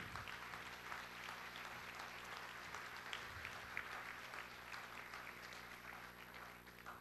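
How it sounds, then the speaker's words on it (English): An awards ceremony audience gives a round of applause, continuous clapping heard at a distance and fairly quiet, steady across the whole stretch with a faint hum beneath. "So let's just give a round of applause for all the role models of integrity in our lives"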